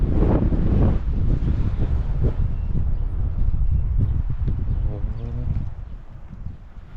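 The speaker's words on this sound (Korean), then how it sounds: "바람 조금 불긴 하지만" Outdoor wind in Buryatia rushes and buffets against the microphone in gusts while someone talks over it, the blowing easing toward the end.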